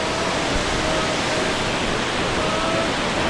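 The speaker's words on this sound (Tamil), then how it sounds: "அந்த அருவி விடுறது வேற லெவலில் இருக்குங்க பாருங்க" Kawasan Falls crashes down into its pool as a dense, loud, unbroken roar of rushing water, close by and steady throughout.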